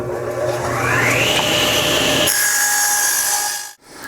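A power saw cuts through a 3/4 inch pine board, giving a loud, steady whine that climbs in pitch as the blade bites, then drops to a freer spin and winds down near the end.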